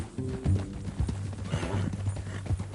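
Horse hooves clip-clop at a steady walking pace in the Red Dead Redemption 2 video game, close and fairly loud, with a low tonal background hum and no talk.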